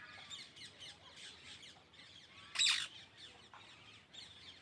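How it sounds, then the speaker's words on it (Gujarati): Parrots call from a mango tree on a farm in Deesa in the evening, with repeated squawks and chirps and one sharp, louder squawk partway through over a quiet outdoor background. "આંબા ઉપર દેખો પોપટ કેવા બોલે છે."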